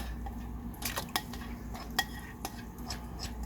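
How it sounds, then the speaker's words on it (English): A spoon stirring a gelatin mixture in a pan over turned-off heat until it dissolves, a quiet swishing with several crisp metallic clinks against the pan, close and without talk. "now I'm going to put my gelatin mixture into this pan and start stirring it up till it all dissolves"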